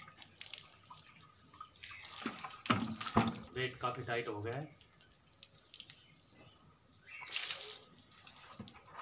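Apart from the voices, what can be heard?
hot water being poured into a container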